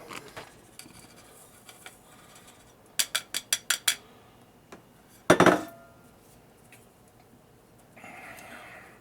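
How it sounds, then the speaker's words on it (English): A sifter blends flour, cornmeal and seasoning in a home kitchen, producing a quick run of five or six sharp rhythmic ticks, then one louder clatter, with scattered faint clicks around them. "What I'm going to do to mix all this flour and cornmeal and all this different seasoning together is I'm going to use a sifter."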